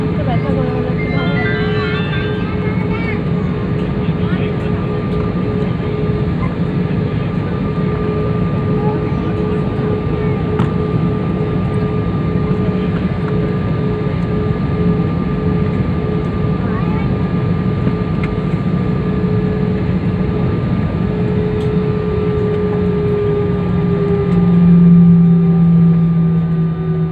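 Airplane taking off from Andaman Island, heard from inside the cabin as a loud, steady engine drone with a constant hum that holds for the whole stretch and swells slightly near the end, while people talk under it.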